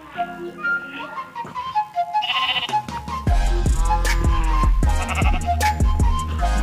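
Sheep bleating in a modded Minecraft game on Android, several short synthetic bleats over background game music, later joined by rhythmic thumping sounds.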